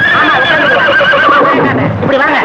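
A horse gives a loud, close whinny with hoof clip-clops underneath, heard in a scene from a Tamil romantic film, while people talk over it.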